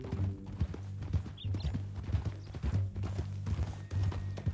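Horse hooves clip-clop at a steady walking rhythm in the video game Red Dead Redemption 2, moderately near and fairly quiet, with ambient game sound beneath.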